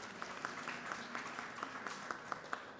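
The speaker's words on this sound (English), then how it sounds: "Give them a round of applause for coming up." Scattered applause from a small congregation at a Sunday temple service, a soft, sparse patter of hand claps heard at moderate distance with a steady room murmur behind it.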